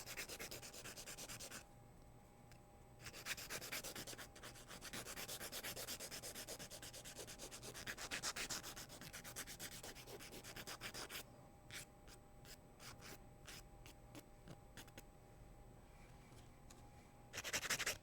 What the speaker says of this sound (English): I will file my sidewalls and my free edge